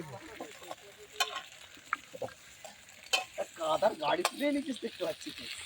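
Potatoes fry and sizzle in a pan over an outdoor picnic fire in a garden, with irregular stirring scrapes and clatters up close and voices murmuring nearby.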